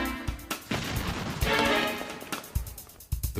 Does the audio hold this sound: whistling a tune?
no